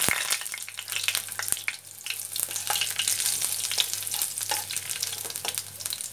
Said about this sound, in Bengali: এবার এর মধ্যে শুকনো লঙ্কা, তেজপাতা, শুকনো লঙ্কা আর রসুন আর গোটা জিরে ফোড়ন দিয়ে দিলাম